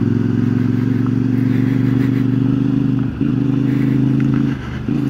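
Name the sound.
CFMoto 450MT motorcycle engine while riding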